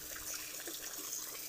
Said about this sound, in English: we have the pool draining